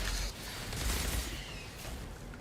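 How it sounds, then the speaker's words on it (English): Chaotic explosions and gunfire-like blasts from the Path of Exile video game, a dense continuous barrage of booming bursts and crackle with no talking. "I don't know what I'm meant to be shooting, it's just chaos and explosions."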